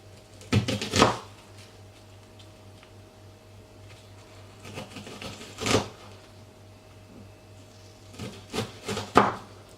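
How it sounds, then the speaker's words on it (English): Bursts of knife chopping through onion on a board, three separate flurries of quick, close taps with quiet pauses between, and a steady low hum underneath. "So that's my onion all cut up."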